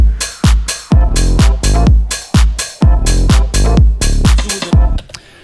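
Electronic dance track drop produced in Ableton: punchy, heavy kicks and a pulsing bass hit in a steady driving rhythm, loud and upfront, stopping abruptly near the end; no voices.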